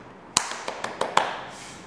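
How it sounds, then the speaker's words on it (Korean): Five or six sharp hand claps in a loose, uneven rhythm, close and fairly quiet in a small indoor room, with no talk over them. "박수."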